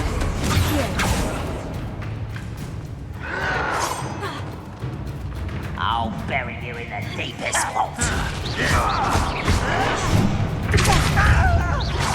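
Fire spell blasts boom and crash repeatedly in Hogwarts Legacy combat, loud and layered with whooshes and mechanical effects, under a voice casting spells aloud.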